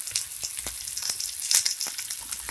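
Ginger and spices frying in a pan: a steady close sizzle with scattered sharp crackles and pops throughout, no voices.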